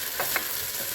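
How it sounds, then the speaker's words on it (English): Garlic hitting a hot pan, a steady dense sizzle with a couple of brief stirring scrapes, close and continuous. "Let's add our garlic in."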